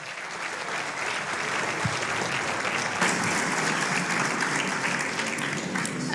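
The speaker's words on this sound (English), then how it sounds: "Can we have a big round of applause and a big welcome for Miss Lara Soweya." Sustained, dense applause from a large audience fills a press conference for a world Arabian racehorse conference in Madrid, steady and loud throughout with no speech over it.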